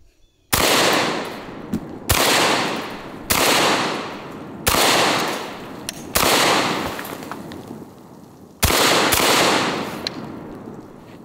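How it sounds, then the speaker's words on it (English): A 12 gauge Panzer M4 Benelli-clone shotgun fired at pumpkins outdoors: six loud, booming shots spaced about one to two seconds apart, each followed by a long decaying echo, with no talking. "Let's see if a 12 gauge shotgun can carve a couple pumpkins and a watermelon and a 12 pack."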